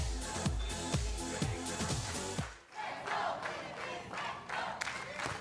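Home-team crowd at a beach volleyball finals in Subic Bay, Philippines, roaring and cheering loudly and steadily, with bursts of rhythmic noise in the first half before settling into a dense, continuous crowd din.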